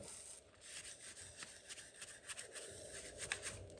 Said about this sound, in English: I'm pulling the backing and smoothing the sticker out as I'm going along